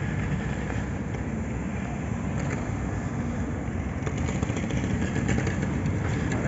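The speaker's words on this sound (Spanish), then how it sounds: "Casi nos arrolla esta moto." A motorcycle engine roars steadily nearby over busy night street noise in Old Havana, growing slightly louder toward the end as it passes close.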